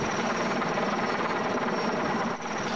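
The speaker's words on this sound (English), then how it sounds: "A Sky Crane helicopter lugged snow across the valley to the Olympic venue" A heavy Sky Crane helicopter carrying snow roars overhead, a loud steady throbbing rotor drone filling the whole clip without pause.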